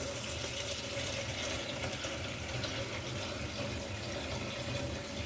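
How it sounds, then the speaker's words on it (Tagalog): Galunggong fish washed under a running kitchen tap, a steady, close and fairly loud stream of water splashing without pause throughout, with no voices. "Hugasan natin yung galunggong."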